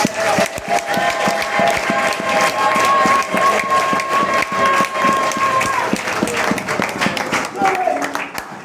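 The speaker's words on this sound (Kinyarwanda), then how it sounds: "Abamukunda bamukomera amashyi." A crowd at a Christian worship gathering applauds loudly and continuously, with dense clapping that carries a sustained tone through it and tapers slightly near the end.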